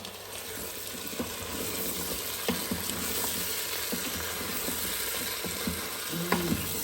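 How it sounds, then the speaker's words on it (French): Carrots fry with meat and onions in a pan, giving a steady close sizzle with occasional clicks and scrapes of stirring. "maintenant que j'ai fait revenir un petit peu les carottes, avec la viande, les oignons"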